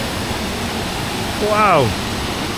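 A three-tiered waterfall in rural Sri Lanka gives off a constant broadband rush, while a man briefly exclaims over it partway through.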